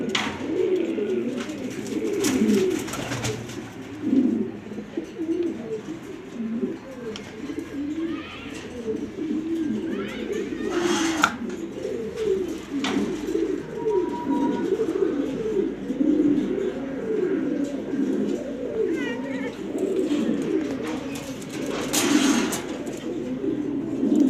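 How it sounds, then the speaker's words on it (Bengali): Breeding pigeons, including a male and a grizzle female kept for pairing, coo steadily in overlapping low rolling calls close by throughout, with occasional faint chirps and no talking. "ব্রিডিংয়ের কবুতর, আপনারা চাইলে নিতে পারবেন।"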